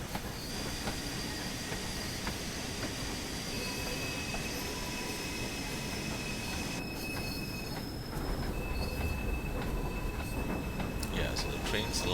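A steam locomotive, an LMS Fowler Class 4F in a train simulator game, rumbles and clatters steadily with squealing tones and hissing, under occasional quiet talk; the sound builds slightly as it gets moving.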